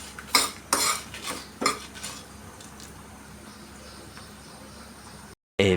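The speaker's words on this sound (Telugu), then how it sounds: "కొద్దిగా మంచిగా బ్రౌన్ కలర్ వచ్చేంత వరకు వేయించుదాం." Ingredients for Andhra-style sambar stirred and fried in a little oil in a pan, with several sharp scrapes of a utensil against the metal early on, then a steady soft sizzle running underneath before a brief pause.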